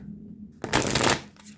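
A deck of cards shuffled once, a quick riffling rush that bursts in after a quiet moment, stays full and dense for about half a second, then fades out, close and clear.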